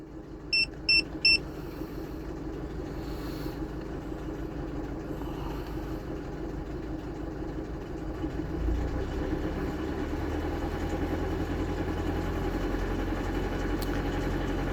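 A 2.3 turbo petrol Mazda CX-7 engine with 170,000 km idles steadily while warming up after a cold start, preceded by a few quick electronic beeps, its low hum growing slightly deeper and stronger partway through.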